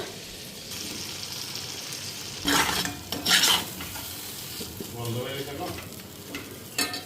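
Dried fish, potato and eggplant frying together as spices go in: a soft steady sizzle with a few louder bursts of stirring and spoon clatter, close by.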